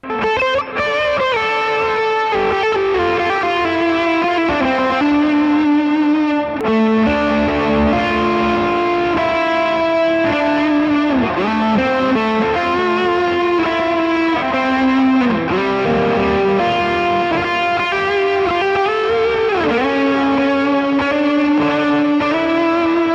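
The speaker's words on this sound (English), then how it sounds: "I'm going to add some delay and overdrive," An electric guitar runs through stacked Browne Protein V3 overdrives plus delay and reverb, pouring out a continuous, loud, saturated wash of chords and lead lines with echoing tails and no speech.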